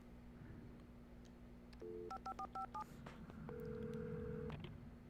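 A phone being dialed in the video game Alan Wake: a run of short keypad tones in quick succession, then a longer steady tone, over a low background hum.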